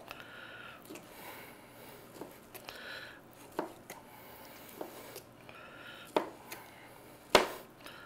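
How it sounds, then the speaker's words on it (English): A knife chops through stacked cooked steak for street tacos on a cutting board, a handful of soft, irregular thuds spaced a second or so apart, the last two sharper and louder, in a quiet kitchen. "stack it baby on top of each other and just cut it"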